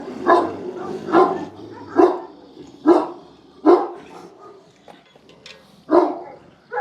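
A very large, tall dog on a farm barks in loud, deep single woofs, about seven of them at a fairly even pace, close by with no talk.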